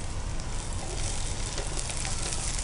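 Loud, dense sizzling of green chillies frying with ginger, garlic and onion in hot oil for gongura fried egg rice, a continuous close crackle with no pauses.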